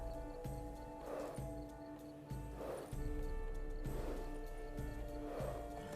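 Horse hooves in the video game The Witcher 3: Blood and Wine, a steady galloping clip-clop rhythm repeating over a dense game soundscape with music and ambience, fairly loud and continuous.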